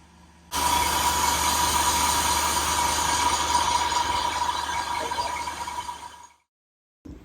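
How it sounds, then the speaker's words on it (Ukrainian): A BMW E46 with a swapped 2.5-litre M52 six-cylinder engine idles with a steady, smooth rumble and hum for about six seconds, then stops briefly before a short burst returns. "ну працює як шестициліндр, приємненько"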